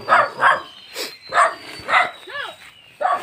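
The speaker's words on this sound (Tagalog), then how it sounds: "Apa naman ang aso na yan." A dog barks repeatedly nearby, about six sharp barks in an uneven rhythm with short pauses between them.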